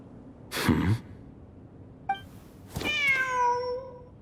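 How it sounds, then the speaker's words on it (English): A cat in Genshin Impact gives a drawn-out, rising-then-falling meow near the end, preceded by a short breathy puff and a brief chirp, all close and clear over quiet background. "The cat!"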